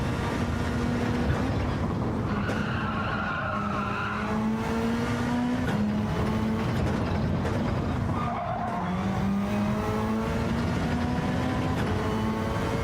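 Formula race cars in the Gran Turismo 7 video game roar past in a dense pack, loud engines whining and shifting pitch continuously, with tires squealing through the corners.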